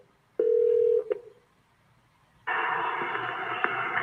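An outgoing cold call rings on a phone line: a short ringback tone sounds, then a click, a gap, and a busier, louder line sound that continues to the end, with no talk.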